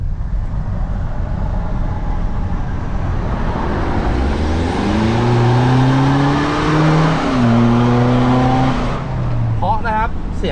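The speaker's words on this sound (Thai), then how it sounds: "เสียงท่อแบบซูเปอร์คาร์แบบนี้" A tuned BMW X5 diesel with an aftermarket exhaust rumbles and revs up, pitch climbing and falling through deep, raspy exhaust tones, loud and close, with a sharp higher whine near the end.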